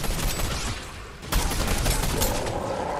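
Rapid gunfire from a Fortnite Chapter 3 boss fight crackles in a dense, continuous burst of shots that swells louder halfway through and keeps going to the end, with no talking.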